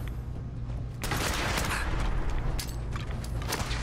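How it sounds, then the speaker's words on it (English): Rapid explosive gunfire and blasts from rockets being fired during a Fallout 4 battle, loud and dense, starting sharply about a second in and continuing in bursts. "Oh god, somebody's shooting rockets."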